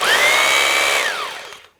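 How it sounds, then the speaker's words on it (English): A Bosch Bulldog Extreme hammer drill runs in hammer-and-rotate mode, a loud close whirring motor with a steady rattling hammer action, then spins down and falls silent near the end. "You can have it so that it does the hammer and it spins."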